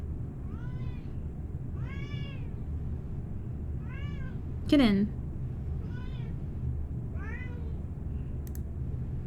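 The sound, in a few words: hungry cat meowing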